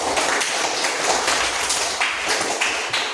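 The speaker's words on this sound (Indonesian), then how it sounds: "Tepuk tangan untuk Adel." Students in a classroom clap for a classmate named Adel, a dense, lively patter of many hands close by that continues evenly for a few seconds.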